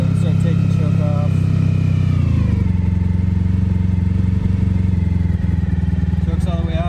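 An old, abandoned motorcycle engine idles steadily while warming up after its choke comes off, a close, loud, even thumping with a slight drop in pitch partway through, as someone talks over it.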